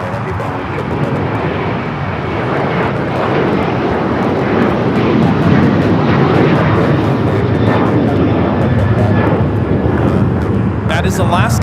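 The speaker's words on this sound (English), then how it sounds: "1330 taking off to Liberia on the 737-800" A Boeing 737-800 jet takes off at LAX, a loud, steady engine roar sustained throughout with broadband rumble, and people talk faintly over it.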